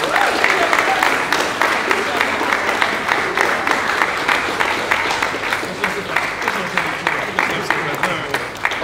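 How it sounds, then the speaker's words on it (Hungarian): Wedding guests clap during a father-of-the-bride speech, a sustained, fairly loud round of applause with rhythmic individual claps and some voices mixed in, easing slightly toward the end. "Nagy tapsot kérünk."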